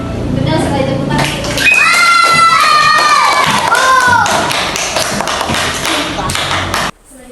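A classroom of children claps together in a lively, fast patter under a teacher's voice and some high children's voices, loud and close, cutting off abruptly near the end.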